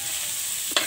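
Meat for sisig being stirred in a hot pan, a steady close sizzle with one sharp scrape of the utensil near the end.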